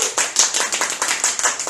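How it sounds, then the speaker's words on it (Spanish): A small audience claps at an economics discussion show, giving a brief burst of sharp, evenly spaced claps that sound close and lively, with no talking over them. "Así que un aplauso para las chiquillas."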